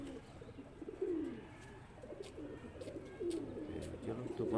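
Domestic flying pigeons in Islamabad give soft, low, repeated coos in overlapping rounds, fairly quiet and close, with faint background noise.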